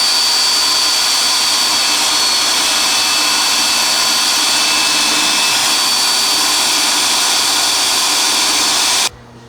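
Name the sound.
drill drilling out rivets of a power window regulator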